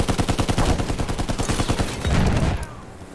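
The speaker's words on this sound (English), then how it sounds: "machine gun." Machine gun fire in Battlefield 1 rattles in rapid, evenly spaced bursts, loud and close, then cuts off near the end and leaves a quieter background.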